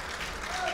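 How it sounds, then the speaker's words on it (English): Applause from an arena crowd after a 97 kg freestyle wrestling gold-medal final, a steady dense wash of clapping at moderate distance, with crowd noise and some voices mixed in. "You'll hear an applause now."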